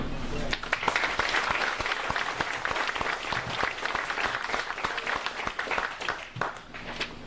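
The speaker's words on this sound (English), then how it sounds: "let's give a big round of applause for our panel" Sustained audience applause for a panel at a candidate forum, dense clapping from a crowd that stays fairly even throughout, with no voices standing out.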